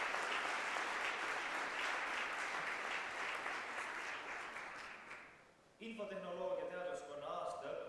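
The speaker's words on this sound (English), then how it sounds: "let's applaud him anyways" Sustained audience applause at an Estonian anniversary ceremony honoring an absent software science lecturer, a dense even wash of clapping that fades after about five seconds, followed by a voice speaking.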